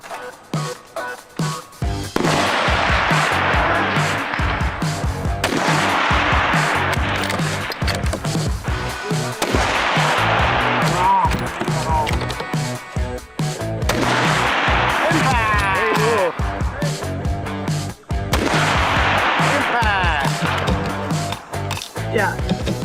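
Centerfire rifle shots ring out at a PRS precision rifle match in Petawawa, loud sharp cracks repeating through busy range noise and commotion, with voices in the background.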